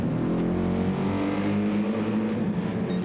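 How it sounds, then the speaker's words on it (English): Mercedes racing car engine giving a steady, low rumble throughout, loud and continuous, with a faint higher whine on top and no voices. "low rumble of the Merc engine there"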